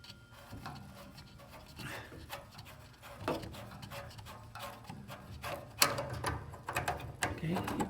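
A 3/4 wrench loosening a fitting on a Whirlpool water heater, heard as close metallic clicks, scrapes and creaks at an uneven pace, with someone talking over parts of it.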